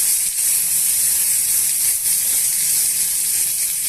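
Onion and green chilli pieces sizzle steadily in hot frying oil, a loud, continuous bright hiss with no pauses and no voices.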